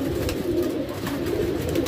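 Soft, low pigeon coos murmur close by in a continuous rolling burble, with no talking, from pigeons in Kiratpur, Bijnor district, India.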